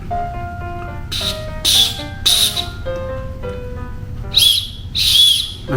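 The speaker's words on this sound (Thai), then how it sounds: "นกหวีด" A toy whistle is blown close and loud in several sharp, shrill bursts, some trilled, with a quieter tonal whistling between them.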